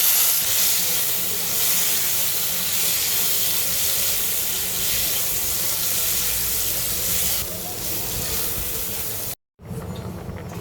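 Oil heating in a pan before prawns go in, giving a steady broad hiss and sizzle close by that holds for several seconds, dips slightly, then breaks off briefly before resuming.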